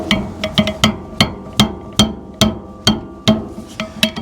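A bare palm striking a freshly rehammered sawblade to seat it, around eleven sharp slapping impacts in a fairly steady rhythm, each with a brief metallic ring.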